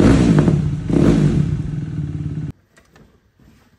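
A 2020 KTM RC 390 motorcycle engine running and revving up close with a loud throaty roar and a rising swell, then abruptly cut to near silence with faint clatter.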